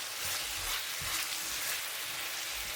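Onions sautéing in a pan as a gravy base, a steady close sizzle with broadband frying crackle throughout and no talk.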